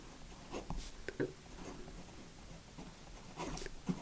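A Wing Sung 601 fountain pen with a fine nib writing on paper, giving soft, close scratchy strokes in short bursts that are faint and quiet, with no talking.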